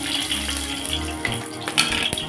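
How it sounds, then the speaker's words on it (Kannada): Green chillies dropped into hot oil for a ridge gourd chutney hiss and crackle in a steady, close sizzle that runs throughout, with no talking. "ಇದಕ್ಕೆ ಮೊದಲಿಗೆ ಎಣ್ಣೆ ಕಾದಿದೆ. ಮೊದಲಿಗೆ ಹಸಿಮೆಣಸಿನಕಾಯಿ ಹಾಕೋತಾ ಇದ್ದೀನಿ."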